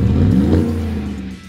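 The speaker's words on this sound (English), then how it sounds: "We installed a few cat-back exhaust options to show you how they look and sound" A 2017 Chevrolet Silverado with a 6.2 liter engine and MBRP cat-back exhaust revs with a loud, deep rumble that swells briefly and then eases down as the throttle drops.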